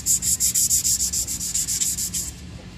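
Sandpaper rubs rhythmically around an aluminum fork leg, a steady series of close, even scratchy strokes, about a dozen in quick succession before stopping.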